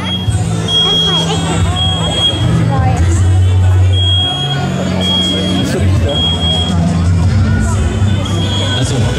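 A smoke alarm beeps in short, evenly spaced high pulses during a fire brigade room fire demonstration at an open day in Erlangen, sounding over crowd murmur and people talking nearby.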